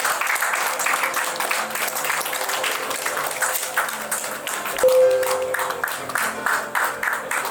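An audience claps at a Charli Foundation tenth-anniversary celebration as a guest is called up to the stage, steady clapping running on with some voices and a brief ringing tone partway through.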